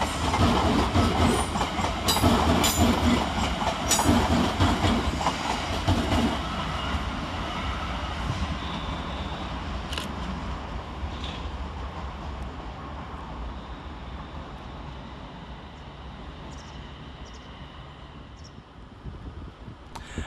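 London Northwestern Railway Class 350 units 350377 and 350238 departing London Euston on a service to Birmingham New Street, a loud rumble and rhythmic clickety-clack of wagons that slowly fades as the train pulls away, with no talk.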